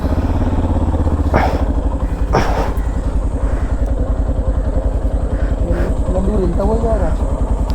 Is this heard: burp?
no